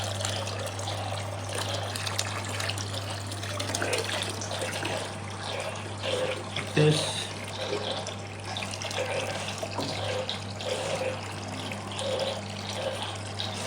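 Aquarium gravel vacuum siphoning water from a tropical fish tank during servicing, a steady close watery trickling and sucking wash running throughout under a constant low hum, with a brief spoken remark.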